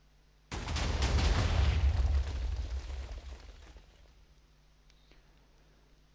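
An artillery gun in the video game Wargear fires one sudden loud boom that rumbles heavily for a couple of seconds, then decays into a fading tail, heard alone.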